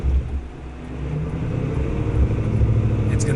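A 2022 Chevy Silverado ZR2 engine labors and revs as the truck climbs out of a muddy ditch, a loud close rumble rising and falling with throttle.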